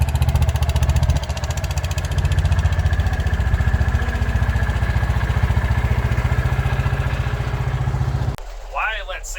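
A John Deere AMT utility vehicle drives with a passenger riding in the back, its engine puttering steadily and loudly throughout before dropping off near the end.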